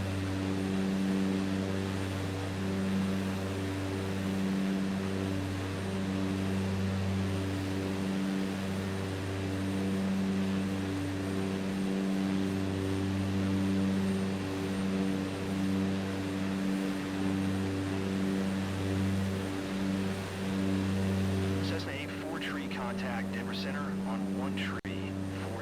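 A Cessna light aircraft's propeller engine in Microsoft Flight Simulator 2024 drones steadily with a low, throbbing hum that pulses in slow waves, joined near the end by faint clicks and rustles.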